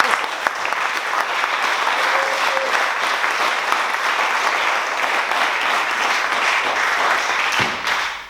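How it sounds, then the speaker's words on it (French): Sustained applause from a TV game show studio audience, dense steady clapping at even loudness throughout, without speech, then tapering off abruptly near the end. "On peut l'applaudir."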